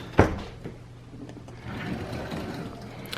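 A kitchen drawer by a home beverage bar slides open with a sharp knock, then a rolling, rattling slide follows, close and moderately loud with no talk.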